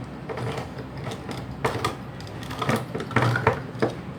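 Manual can opener cranked around the lid of a can, giving a steady run of clicking, grinding mechanical ticks with irregular louder catches, close and alone with no talking.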